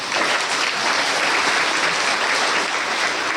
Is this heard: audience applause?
yes